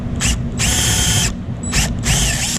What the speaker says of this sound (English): These kind of blind rivets will very easily just be able to be drilled out.